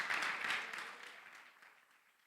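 A church congregation claps together as an offering to the Lord, a dense wash of applause at moderate distance that swells briefly and then slowly fades out.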